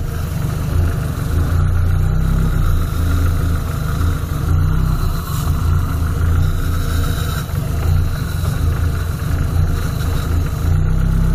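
A car engine with throttle body injection runs steadily at idle, nearly stalling, a low continuous rumble close by, with slight wavering as if struggling to keep running; no one talks.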